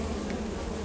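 Honey bees swarm over a wooden beehive frame, a steady dense buzz that runs unbroken and close throughout.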